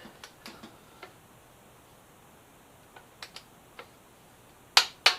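A torque wrench clicks on the pinch bolts of a Yamaha FZ6R fitted with an R6 front end, giving sparse faint ticks and then two sharper, louder clicks near the end, close and without talking.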